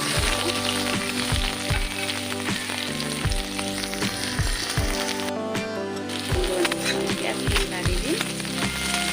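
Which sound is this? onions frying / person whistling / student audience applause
onions frying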